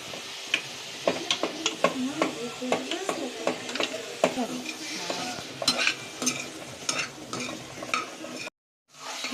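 Two medium-size tomatoes sauté in a pan for red chutney, with busy clinking spatula strokes over a soft frying sizzle. The sound stops briefly near the end.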